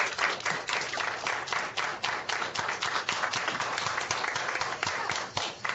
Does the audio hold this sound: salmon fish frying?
no